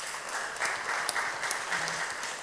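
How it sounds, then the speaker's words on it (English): Audience applause at a church service during Advent, steady and moderately loud, sustained dense clapping from a crowd without a break. "Please give him a round of applause."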